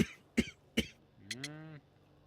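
A character in a Sherlock Holmes detective video game coughs twice in short, rough bursts, then lets out a drawn-out, wavering groan. The sounds are close and clear over a quiet game backdrop.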